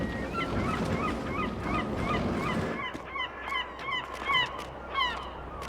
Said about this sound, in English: You hear our seagulls quite substantially.